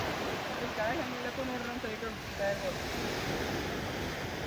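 Sea waves wash steadily along Karwar beach with a broad, constant roar mixed with wind buffeting the microphone, while faint voices and brief whistle-like tones come through underneath.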